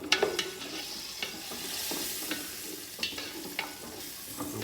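Vegetables cooking in a pan for chicken pot pie fry with a soft, steady sizzle, broken by occasional light scrapes and taps of a stirring utensil, fairly quiet and close, with no speech.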